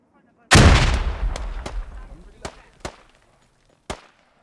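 Gunfire in a competitive video game match: one heavy, echoing shot followed by several sharp single cracks at irregular intervals, loud and close with a decaying tail.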